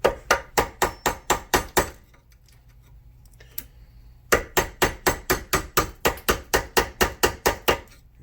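Rapid metallic hammer taps on a screwdriver against a heated circlip during a Ford Fiesta ST rear wheel bearing replacement, in two bursts of about a dozen sharp strikes, separated by a short quiet pause, close and fairly loud.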